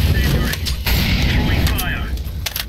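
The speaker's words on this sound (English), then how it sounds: "Deploying flashbang." In a Counter-Strike match, a flashbang grenade bursts with a loud, sharp bang amid continuous gunfire and crackling game noise, with voices talking over the action.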